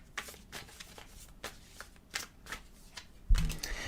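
Tarot cards being shuffled and dealt out, a string of soft, quiet riffling bursts at a steady rhythm, ending in a louder thump as cards are set down.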